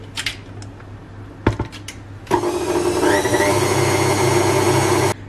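A few clinks of a utensil against a bowl, then a loud continuous whir of an electric mixer beating lemon cake batter with flour for several seconds before cutting off abruptly.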